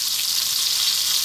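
Ginger and onions sizzle in hot oil in a wok, a steady, close hiss of frying with no voices.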